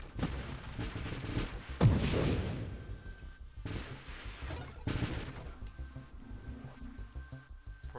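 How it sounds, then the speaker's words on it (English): Homing explosives fired by a drone in the space shooter Nova Drift, heard as a series of booming blasts and crackling impacts with a heavy burst near two seconds, more detonations around five seconds, all over a continuous game sound bed. "he can just shoot a bunch of homing explosives now"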